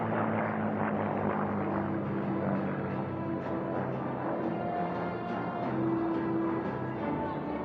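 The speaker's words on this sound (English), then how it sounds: "As Bernie Vasquez takes the aircraft around the track, does that ever look beautiful?" Thunderbird, a restored warbird aircraft back in the air after more than 50 years, roars around the race course in an Unlimited heat, its engine a steady, loud, rumbling drone that holds throughout.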